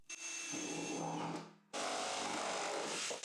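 A power drill runs steadily, boring holes through a rubber gasket and drum lid to mount a dust-collector cyclone, the motor pitch shifting as the bit bites, with a short pause before the drilling resumes loudly.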